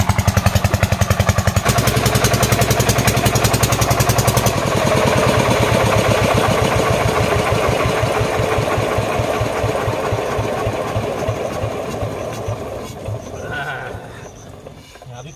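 A farm water pump engine chugs steadily with a rapid, regular thumping rhythm, loud and close, slowly fading toward the end, with voices and animal bleats mixed in, in hot fields.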